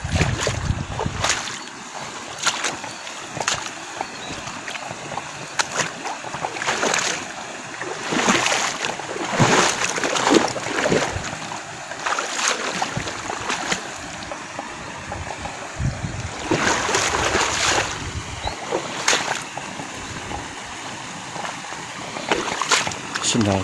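Splashing through a river while crossing the Citarik, with bursts of water splatter and sloshing over a steady flowing-stream backdrop, close and fairly loud, with speech at times.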